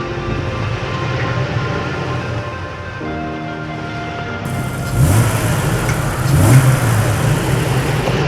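A Dodge Ram 2500 turbo diesel truck driving off-road in 4-low and 4-high, its engine a steady close drone that shifts pitch midway and swells as it revs, with no talk over it.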